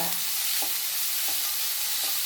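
Chopped shallots and coriander leaves are sautéed in a pan for tomato soup, a bright continuous sizzle with a few soft stirring knocks spaced apart, close up and without talk.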